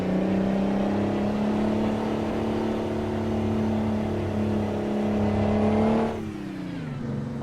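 A truck engine in American Truck Simulator runs hard at high, steady revs under automatic drive with a droning harmonic tone, then drops sharply in pitch and load as the revs fall away near the end.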